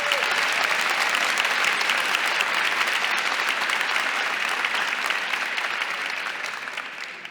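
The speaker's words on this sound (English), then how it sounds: "Can we have one last round of applause for all of the department award winners?" Sustained applause from a large audience at an honor convocation, greeting department award winners with steady dense clapping that holds loud throughout and slowly fades toward the end.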